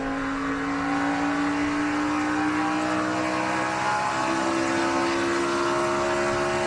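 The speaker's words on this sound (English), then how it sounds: "you could hear the engine really lugging there. That was after he had gone from 2nd to 3rd" A NASCAR race car engine drones loudly and continuously at the 2015 Axalta "We Paint Winners" 400, its pitch rising slowly as it lugs in third gear after a late shift from second.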